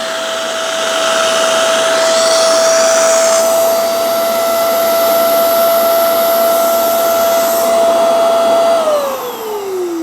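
A Hoover CleanSlate Pet FH14051 carpet spot cleaner running with its wand pulled, a loud steady motor whine with a constant high tone and airy suction hiss that winds down near the end.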